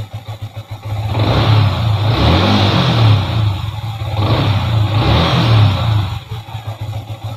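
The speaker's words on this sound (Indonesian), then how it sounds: "Coba gua gas." A Xabre motorcycle engine runs steadily, then revs up in several surging bursts, loud and close, with no talking.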